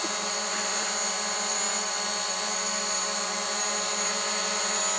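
A small camera drone hovers and comes down onto a homemade landing pad, its rotors giving a steady, even, high buzzing whine that holds the whole time with no talking.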